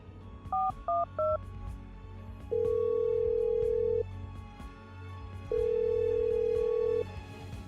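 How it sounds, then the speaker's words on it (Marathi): A quick run of dialing beeps, then two long, steady ringing tones on a phone line, separated by a pause. "रिंग जात होती"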